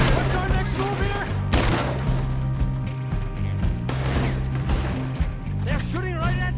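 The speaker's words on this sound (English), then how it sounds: "They're shooting right at me." Gunfire rings out in the Red Dead Redemption 2 video game, bursts of sharp rapid shots and crashing impacts over a dense background of music and effects, with voices talking amid the shooting.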